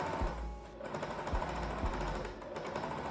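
Serger sewing machine finishing the edges of sewn fabric panels, running in steady bursts with a rhythmic mechanical thrum and periodic low thumps, close and fairly loud with no talking.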